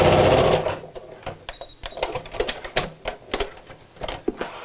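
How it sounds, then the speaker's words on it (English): A sewing machine runs a row of tacking stitches along the side pieces of a denim laptop bag: first a loud, fast whirring burst, then slower irregular clacks and clicks, up close. "just a little row of tacking stitches to hold the side pieces together"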